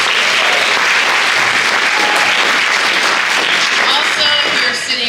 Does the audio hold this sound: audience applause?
yes